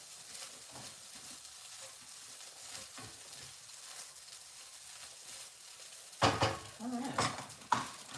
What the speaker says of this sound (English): So let me stir it one more time